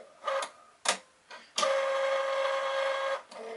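A Cricut cutting machine cuts a laminated album cover, several short whirring motor bursts followed by a longer steady mechanical hum, close and moderately loud.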